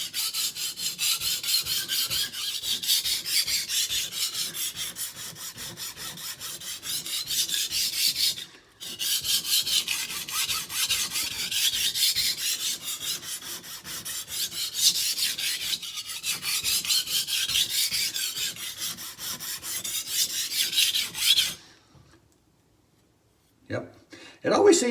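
A kitchen knife is sharpened on a single whetstone in rapid back-and-forth grinding strokes. Long continuous runs of close, rasping scrapes break in two short pauses, then stop, followed by quiet and a faint knock.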